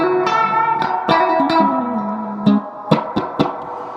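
A Roland Space Echo RE-201 set to reverb only washes a tonal instrument phrase in a reverberant tail, with sustained pitched notes and sharp plucked attacks ringing out in a loud, close signal.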